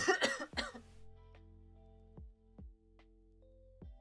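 A few harsh, close coughs in a quick burst at the start, followed by quieter background sounds and no speech.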